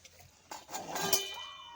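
Brass pots clink and clatter briefly as they are handled and set down outdoors, a few metallic knocks with a ringing chink near the end, fairly quiet and close.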